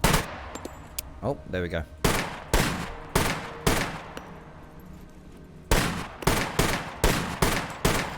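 Single shots from a Croatian army rifle in the game SCUM, fired in single-fire mode: about eight loud, sharp reports spaced out with pauses, after a brief spoken remark near the start.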